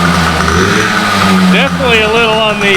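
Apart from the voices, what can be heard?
Yamaha PW80 dirt bike engine idling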